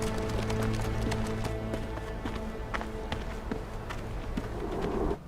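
Horses' hooves clip-clop in a quick, steady gallop rhythm over a low music bed, the hoofbeats sounding close and moderately loud throughout, with no talking.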